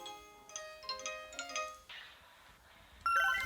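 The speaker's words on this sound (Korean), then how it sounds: "때마침 걸려온 엄마의 전화." A mobile phone plays a soft melodic ringtone for an incoming call from a mother, with a few gentle, descending notes at low volume, followed by a brighter chime at the end.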